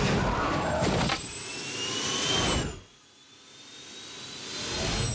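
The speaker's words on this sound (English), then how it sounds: "Launch the drones!" Drones launch in the Thunderbirds Are Go cartoon with a loud jet-like whoosh and whine that sweeps in, then drops off abruptly, before a second rising rush of engine noise builds at the end.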